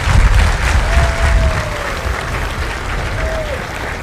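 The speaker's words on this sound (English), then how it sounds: "if you would all please join me in a round of applause" A crowd applauds steadily at a Marine Corps recruit graduation in San Diego, a dense wash of clapping that holds at a loud, even level for the whole stretch.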